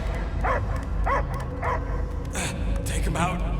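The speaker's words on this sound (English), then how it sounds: "I hear only barking." A dog in the video game Marvel's Guardians of the Galaxy gives a series of short barks and yips, about a handful spaced at regular intervals, over a low rumbling background with some voice-like sounds.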